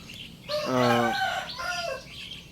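A young rooster about seven months old crows once loudly and close, a strained rising call followed by a shorter clucking phrase.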